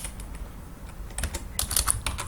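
Quick bursts of keystrokes on a computer keyboard while typing Python code, a few scattered taps, then a denser, louder cluster near the end, close by with no talking.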